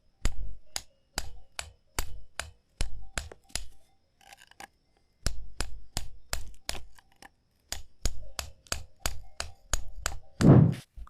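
A hammer strikes the metal of a cabin's main door, a steady series of sharp ringing blows in bursts with a short pause midway, loud and close in a quiet setting.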